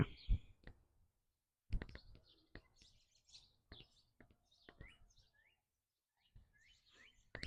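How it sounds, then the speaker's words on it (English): Small birds at a nest built on a back porch give short, intermittent chirps and tweets with sharp clicks between them, close by and fairly quiet, with brief silent gaps. "There's birds and they have worms in their mouth because they built the nest in our back porch."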